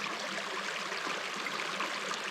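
Creek water flowing along a forest trail, a steady, moderately faint rushing and trickling wash with no pauses and no voices.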